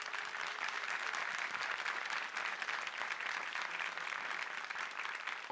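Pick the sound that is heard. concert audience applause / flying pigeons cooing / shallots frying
concert audience applause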